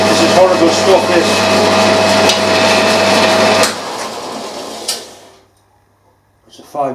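A 5mm cobalt drill bit bores freehand into tough super duplex steel, giving a steady loud whirring grind with a faint high whine that cuts off partway, followed by near silence and a brief clatter.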